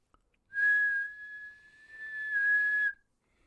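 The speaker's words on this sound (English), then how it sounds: "You blew a whistle." A whistle is blown twice nearby, each a long, steady, shrill tone of about half a second to a second, separated by a short dip, with no talk.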